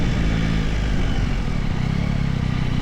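Motorcycle engine running steadily and loudly throughout while riding through a coastal beach town in Albania, a continuous close drone with slight rise in revs and no talk.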